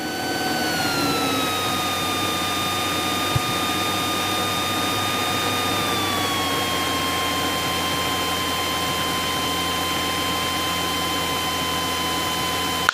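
Small single-engine airplane in flight on a downwind leg near Las Vegas, throttled back to about 1600 RPM with flaps at 10 degrees: a steady, loud droning hum whose pitch drops smoothly partway through, continuous with no talk.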